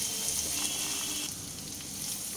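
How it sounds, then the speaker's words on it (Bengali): Ginger garlic paste frying in a pan with oil over a medium flame, a continuous close crackling sizzle that eases slightly partway through, with no voices over it. "আদা রসুন পেস্ট দিয়ে আরও 2 মিনিট একটু ভাজা হতে দেব।"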